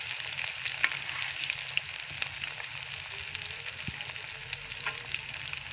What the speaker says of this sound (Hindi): अब इसमें हम ये भिंडी डाल देंगे। इसे हमने हल्का सा ब्राउन कर लेना है।